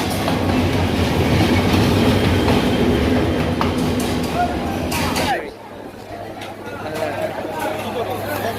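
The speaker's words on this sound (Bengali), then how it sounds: "ভৈরব রেলওয়ে স্টেশনে আমরা বর্তমানে অবস্থান করতেছি" A train rumbles and clatters at Bhairab railway station with loud rolling rail noise and voices chattering nearby, then drops abruptly to a quieter platform hum.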